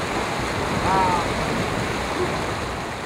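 A Himalayan river near Manang rushes continuously, filling the recording with a broad, steady roar, close and fairly loud, without voices.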